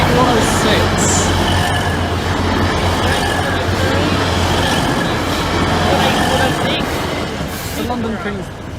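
A train approaches on the East Coast Main Line diversion through Lincoln, a loud, steady rumble of wheels and engine with occasional squeals, easing slightly toward the end, with someone talking over it.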